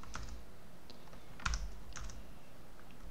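Soft, quick keystrokes on a computer keyboard while typing in Emacs, a few scattered taps with one slightly louder cluster, recorded faintly with no talking.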